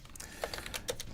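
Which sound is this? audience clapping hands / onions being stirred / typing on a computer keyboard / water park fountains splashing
typing on a computer keyboard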